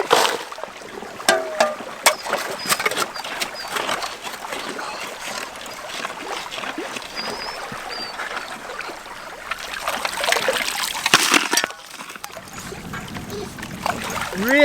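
Gravel and water sloshed and splashed in a gold pan at a stream, continuous wet rattling and splattering, with a person talking over it.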